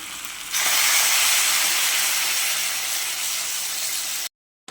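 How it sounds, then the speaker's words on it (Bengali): Hot water poured into a pan of drying fish-head, potato and pointed gourd curry, setting off a loud, steady hiss of steam and sizzle that runs unbroken for several seconds before cutting off abruptly. "জলটা দিয়ে একটু কষাবো। দিয়ে দিচ্ছি গরম জল।"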